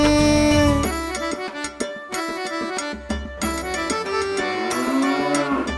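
A sung children's rhyme carries a cow's moo, a drawn-out low call over bright musical accompaniment, loud and close, set within the melody of a Tamil nursery song.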